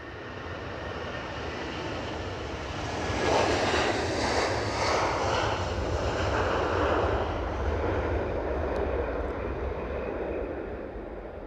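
A Eurowings airliner departs Edinburgh Airport, a steady moderate engine roar that builds slightly in the middle and holds, heard from a distance without voices.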